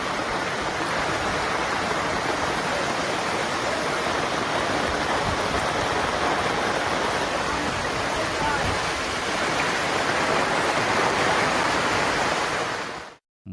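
Floodwater after heavy monsoon rain rushes through the streets of Dhoba village near Savarkundla in Gujarat, making a loud, steady, unbroken roar of churning water with no voices.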